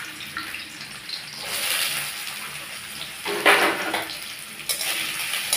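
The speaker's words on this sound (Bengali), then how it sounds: "এবার আমি এই নারকেলগুলো একটু ভাজা ভাজা করে নেব" Coconut pieces fry in hot oil in a pan, giving a steady close sizzle and crackle with sharper bursts of spitting now and then. No one speaks.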